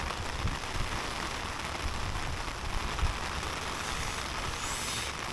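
Cold rain patters and drips onto an umbrella overhead, a dense, steady hiss of drops close by with no talking.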